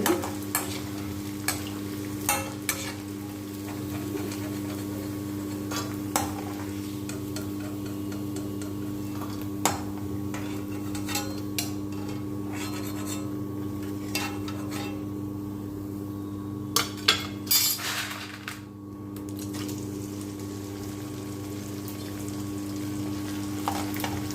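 Murukku vathal fry in hot oil, giving a constant dense sizzle that runs throughout, broken by occasional sharp clicks and ticks from the pan.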